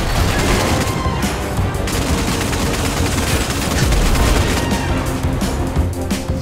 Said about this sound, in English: I've deployed Gemini cannons.